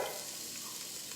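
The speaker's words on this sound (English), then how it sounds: "Oh, do you hear the sizzle?" Corn sizzling in hot oil in a skillet, a dense steady crackling hiss heard up close, loud and continuous for about a second, with no talking.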